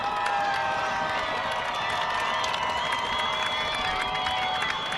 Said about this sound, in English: Crowd getting loud for their Orioles now.